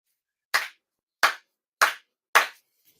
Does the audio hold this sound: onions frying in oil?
no